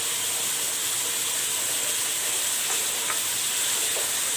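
Beef sizzles steadily in a pan with five green chillies and garlic-ginger paste for Lahori hareesa, a loud continuous frying hiss with occasional stirring scrapes, no voices.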